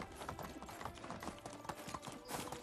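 Horse hooves clip-clop steadily at a brisk pace while riding in the medieval game Medieval Dynasty, a quiet continuous rhythm of hoof strikes over soft ground.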